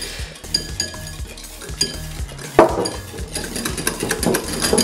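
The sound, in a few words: whisking mayonnaise of egg yolk, mustard and oil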